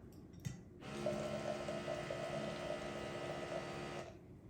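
An electric wine decanter pours and aerates wine, giving a steady liquid pumping and trickling hum of about three seconds after a brief click, fairly close and with no voices.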